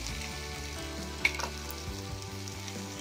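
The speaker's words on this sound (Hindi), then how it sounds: "शिमला मिर्च और लहसुन डालने के बाद बस 2 मिनट तक इसको फ्राई करेंगे।" Capsicum and garlic fry in a pan for dhaba-style chilli paneer, a soft, steady sizzle with one brief clink of a utensil, faint, with no talking.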